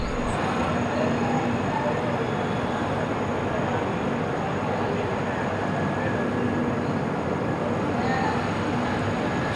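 The Mumbai–Ahmedabad Double Decker Express, train 12931, runs steadily, a continuous loud rumble of wheels and carriage heard from on board, with no break or change throughout.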